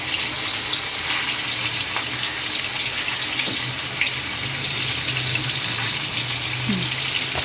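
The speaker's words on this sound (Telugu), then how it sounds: "ఆ నూనె వేడై ఇప్పుడు మనం మ్యాగ్నేట్ చేసుకున్న చేప ముక్కలు ఉన్నాయి కదండి, ఇవి ఇట్లా పెట్టాలి" Marinated koramenu fish pieces frying in hot oil, a dense, loud, even hiss of sizzling that runs unbroken from start to finish.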